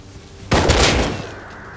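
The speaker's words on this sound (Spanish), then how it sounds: "hora de poner a prueba las escopetas" A single loud, sharp shotgun blast in the video game Rust, with a short rumbling tail, followed by quiet background hum.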